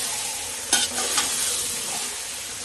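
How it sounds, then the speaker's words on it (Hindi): Marinated chicken is stirred into biryani masala in a pan, giving a close, steady sizzle of frying with a couple of sharp scraping strokes of the spoon against the pan. "अब चिकन को भी इसके अंदर डालकर सब मसाला अच्छी तरीके से, देखिए इस तरह से इसको भी"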